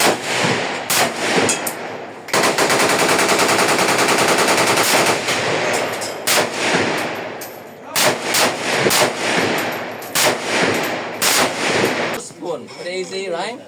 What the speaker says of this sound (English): They fire both the machine guns and also I think some shotgun or pistol, I suppose.